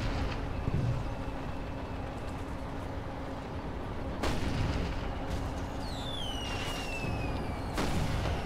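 Distant muffled booms from a mortar in the war game Toy Soldiers, a couple of sharp thuds over a steady battlefield rumble, with faint whistling shells sweeping across the middle stretch.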